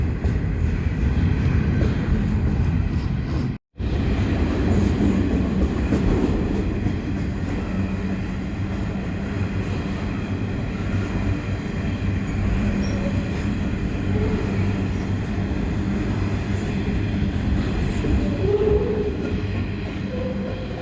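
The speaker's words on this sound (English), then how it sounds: "And that is the end of that westbound coal train." A long westbound coal train rumbles past close by, steady and heavy with rolling wheel noise and occasional faint squeals, briefly cutting out once.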